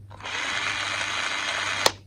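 A steady, high-pitched whir from a small cordless drill runs for about two seconds, ending with a short click as it stops.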